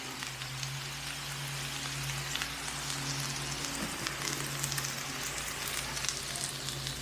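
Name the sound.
fried rice cooking with soy sauce on a Blackstone griddle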